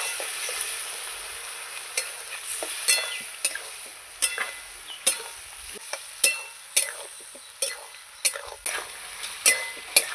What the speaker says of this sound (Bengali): ভালো করে এবার আমি আলুটাকে কষাবো আর একটু জল দেবো